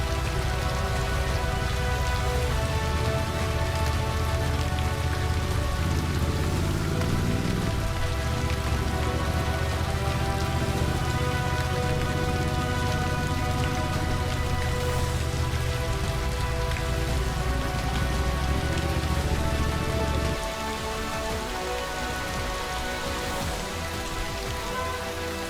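Steady heavy rain pouring during a storm on a mountain trek to Deoria Tal lake near Chopta in Uttarakhand, a continuous loud wash of drops on surfaces with no voices throughout.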